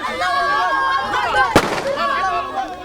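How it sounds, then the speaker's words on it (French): A single sharp gunshot cracks out during an execution in Bangui, loud and abrupt over constant voices and crowd talk in a Muslim quarter street. "le coup de feu que vous venez d'entendre"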